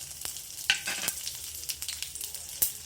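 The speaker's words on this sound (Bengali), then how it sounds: "অল্প তেল দিয়ে দিলাম সর্ষের তেল এবার পাঁচ ফোড়নটা দিয়ে দিলাম" Panch phoron spices frying in a little mustard oil in a hot kadai, a close, steady crackling sizzle with small pops and a few light stirring clicks.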